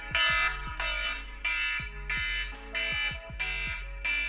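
A loud iPhone alarm on iOS 10 rings in a steady repeating pattern, about half a dozen bright electronic bursts evenly spaced, with no talking.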